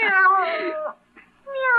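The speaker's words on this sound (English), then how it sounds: "What are you doing with that cat?" A cat meows twice within a vintage 1950s–60s radio mystery drama, a long drawn-out meow followed after a short pause by a second loud, close meow, with no talk over it.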